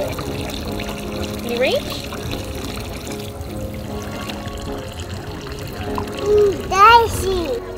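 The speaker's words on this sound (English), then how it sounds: "we seem to always come across free-flowing fresh water in the cities" Fresh water runs from a public city fountain in Zurich, Switzerland, a soft continuous trickle and pour under a child's and an adult's voices, with brief louder splashy moments near the end.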